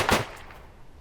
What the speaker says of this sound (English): the gunfire felt authentic and looked authentic